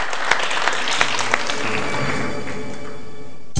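Studio audience applause on a televised quiz show, dense steady clapping lasting a few seconds after a correct answer, with no talk over it.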